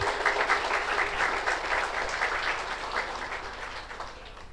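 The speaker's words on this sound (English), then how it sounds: "Let us give them a big round of applause." Audience applause at a vocal concert felicitation event: dense, continuous clapping from a crowd, steady and fairly loud throughout, slowly tapering near the end, with no voices over it.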